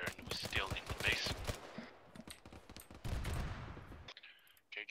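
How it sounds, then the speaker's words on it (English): Heavy video-game gunfire crackles in dense, rapid bursts of overlapping shots, loud and close for about four seconds before it breaks off, with voices mixed in. "We're taking heavy fire and we're still in the base."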